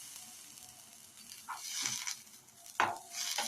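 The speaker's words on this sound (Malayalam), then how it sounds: "അതിൻ്റെ പച്ചമണം മാറുന്നത് വരെ നമുക്ക് നല്ലപോലെ വഴറ്റി കൊടുക്കാം." Grated coconut sautés with curry leaves in a pan for a Kerala prawn curry, with a soft low sizzle and sharp bursts of a spatula stirring and scraping.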